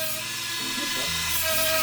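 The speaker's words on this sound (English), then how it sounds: "I put a sanding bit on the Dremel, and that's what I'm using here to clean up some of the rough edges." A Dremel rotary tool with a sanding bit smooths the rough edges of a wooden rattlesnake walking stick, a steady high-pitched whine with a shifting grinding tone.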